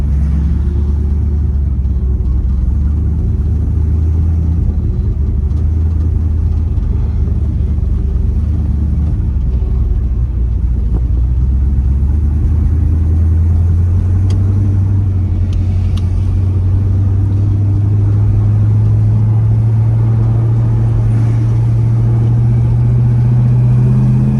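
A 1967 Pontiac GTO cruising at a steady 2,500 RPM, its engine giving a loud, continuous low rumble from inside the car, with the drone rising slightly in pitch toward the end. No one speaks.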